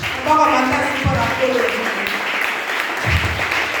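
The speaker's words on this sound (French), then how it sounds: "Acclamez une fois de plus." A church congregation applauds during a sermon, a dense wash of clapping that holds steady under a voice talking loudly over it.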